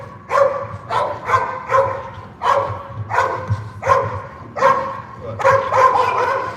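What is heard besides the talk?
dog barking during bitework training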